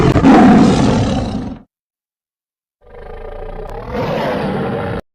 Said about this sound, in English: A tiger's roar is a symbol of power and dominance.